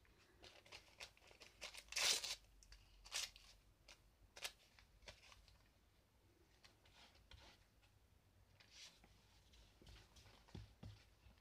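Scissors cutting pink paper for a mixed media canvas, a few short crisp snips and rustles, the loudest near the start, then softer paper handling, close and quiet.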